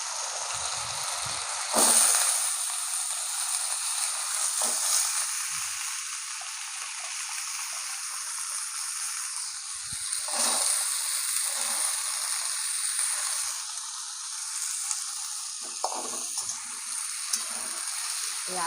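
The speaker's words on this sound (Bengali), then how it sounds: "এই আলু আর সিমের বীজ একটু ভেজে নেবো।" Potatoes and bean seeds fry in hot oil in a pan, with a steady close sizzle and occasional stirring scrapes throughout.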